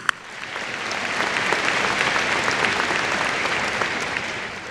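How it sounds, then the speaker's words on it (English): Sustained audience applause at a high school graduation ceremony, a dense steady clapping from a large crowd that swells quickly and holds for several seconds. "Let's give them a round of applause."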